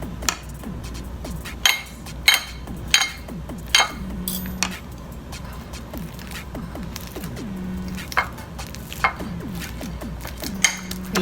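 Crushing and mixing snack ingredients by hand in a kitchen instead of using a blender: scattered sharp clinks and knocks of a utensil against a bowl, irregular and close, with quieter scraping between them.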